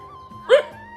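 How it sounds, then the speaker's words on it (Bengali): A dog at a home during a puja lets out a single short, sharp yip-like bark at close range against a quiet background. "কুকুরগুলো কিভাবে ঘেউ ঘেউ করছিল"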